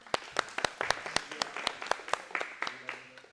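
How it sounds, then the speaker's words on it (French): A small audience in a public speaking class applauds a student, sparse distinct claps in an irregular rhythm, fairly close and moderately quiet, with no speech. "On peut encore l'applaudir."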